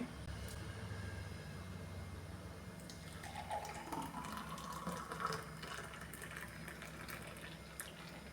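Orange mint juice, strained, pours steadily from a container into a serving glass, a continuous soft liquid trickle and splash heard up close and alone, faint throughout.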